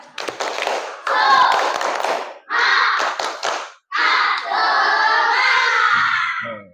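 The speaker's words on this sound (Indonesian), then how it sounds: "Tepuk semangat." A fifth-grade class performs a rhythmic spirit clap, patterned bursts of hand claps and taps in short sections with brief pauses between them, loud and close, with children's voices chanting along.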